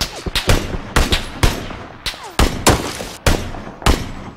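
Repeated gunshots from PUBG gameplay ring out in sharp, loud bursts and single cracks spread through the clip, with several distinct volleys at irregular intervals.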